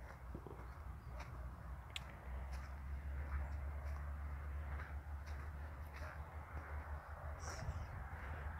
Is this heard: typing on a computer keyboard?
no